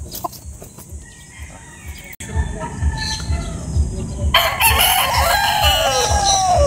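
A gamefowl broodcock rooster crows at a game farm, its call rising loud near the end over a noisy outdoor background with faint voices.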